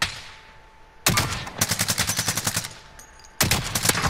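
Rapid automatic gunfire from a Call of Duty: Modern Warfare match, loud and close, coming in sustained bursts of evenly spaced shots separated by short pauses, with no talking over it.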